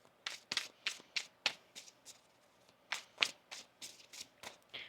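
A deck of tarot cards being shuffled close by, a quiet series of crisp riffling snaps and flutters in uneven bursts, with no speech.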